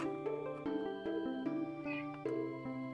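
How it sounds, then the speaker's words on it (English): A cat shut in an office meows over and over, a string of short, close cries, some rising into a longer wail, against quiet room background. "I have evidently locked the cat in the room with me"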